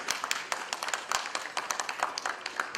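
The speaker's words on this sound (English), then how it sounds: "Let's have a huge round of applause" An audience at an Indian pharmaceutical regulatory conference claps in a round of applause, fairly faint and distant, a patter of many hands that keeps up evenly throughout.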